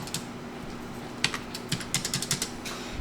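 Typing on a computer keyboard while entering an image size: quiet, irregular key clicks that come in a short fast run toward the end, with no talking.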